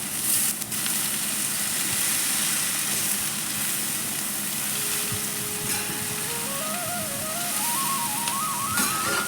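Jakhiya seeds sizzle loudly and steadily in hot oil for a tempering with salt and chili, close up, while a faint tone rises in steps near the end.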